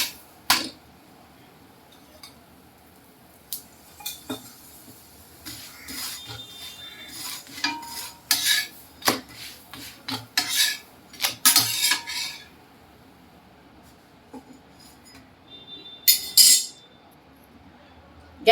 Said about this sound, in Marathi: असं दोन्ही साईडने आपल्याला तेल लावून व्यवस्थित शेकून घ्यायचं